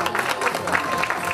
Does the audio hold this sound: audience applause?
yes